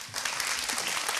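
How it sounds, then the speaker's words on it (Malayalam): A studio audience at a singing reality show applauds, a dense, steady wash of many hands clapping at moderate loudness throughout, with no voices over it. "എല്ലാവരും കൈയടി കൊടുക്കൂ."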